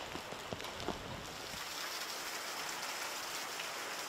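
Heavy rain falls steadily as a dense, even hiss of drops, close and constant throughout with no speech.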